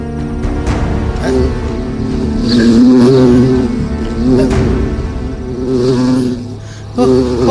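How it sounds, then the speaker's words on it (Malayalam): A beetle buzzing inside a room: a close, droning hum whose pitch wavers and swells as it moves, continuing for several seconds. "ഇതിനകത്ത് എങ്ങനെ വണ്ട് വന്നു?"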